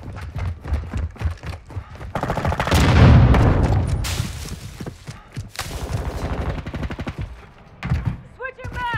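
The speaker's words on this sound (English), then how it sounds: "Taking fire!" Gunfire in a Call of Duty Modern Warfare 2 team deathmatch match: rapid automatic bursts and single shots crackle in uneven clusters, building to a loud peak midway, with a shouted callout between volleys.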